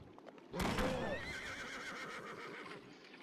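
A horse whinnies loudly in a long, wavering neigh that trails off over a soft background, with faint hoof clatter, in the video game Battle Realms.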